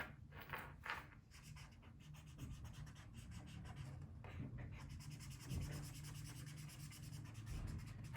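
A felt-tip marker colouring in on paper gives a faint, steady scratchy rubbing with quick back-and-forth strokes, close up and continuous throughout.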